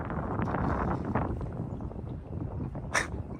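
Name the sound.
wind blowing at the Pasquotank River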